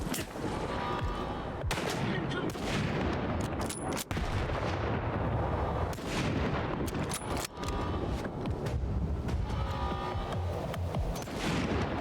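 Gunfire in the video game Stalker 2: Heart of Chornobyl, with repeated sharp shots and bursts over a dense, loud backdrop of battle noise that runs the whole time.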